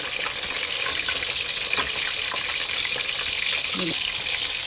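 Chutney kababs shallow-frying in oil in a wok over medium-low heat, a loud continuous sizzle close by with a few light scraping touches.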